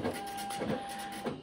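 An Apple ImageWriter II dot matrix printer prints a color photo with cyan ink, making a buzzy, rasping whine in repeated passes about every half second, loud and close with no voices.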